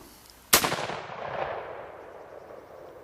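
A single sharp rifle shot fired at a deer during a hunt cracks loudly outdoors, followed by a long rolling echo that fades over a few seconds.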